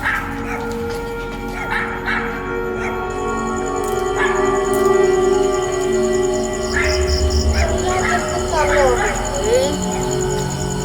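A dog barks and whimpers among village sounds in a rural Maithili setting, with layered background noise and a steady hum; no clear howl stands out.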